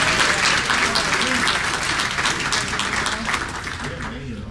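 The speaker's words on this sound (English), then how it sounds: "a round of applause for those with 25 years of service." Applause for county employees honored for 25 years of service at an employee recognition breakfast in Washington County, Maryland: dense, steady clapping from a crowd that fades slightly toward the end.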